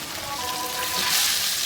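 Shrimp fry in oil with a close, steady sizzle and crackle that swells slightly toward the end, with no talk over it.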